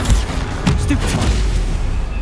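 Stupefy spells fired in quick succession during a Hogwarts Legacy video game fight, each a sharp blast or thump, mixed with booming impacts and a low battle rumble.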